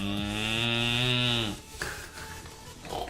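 A person imitates a cow's moo: one long, loud, drawn-out lowing call held for about a second and a half, then it breaks off into quieter room noise.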